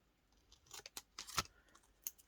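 Scissors snipping off small paper tails in a papercraft project, a few quiet, crisp close-up cuts with brief rustles between them, alone without talk.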